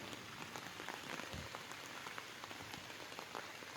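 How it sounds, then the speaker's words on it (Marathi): Dense, continuous patter of heavy rain drumming on surfaces, an even wash of drops with no pauses or voices. "खतरनाक पाऊस चालू आहे का नाही"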